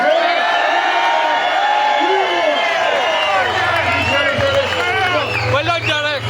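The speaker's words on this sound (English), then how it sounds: "can I get a big round of applause please for Derek Gray?" Outdoor crowd at a protest in Cork cheering, whooping and clapping loudly and continuously, a dense roar of voices with shouts rising over steady applause.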